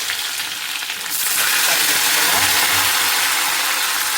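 Mustard seeds dropped into hot oil for a green gram or horse gram curry, a steady loud sizzle that surges after the first second and keeps crackling, close and alone.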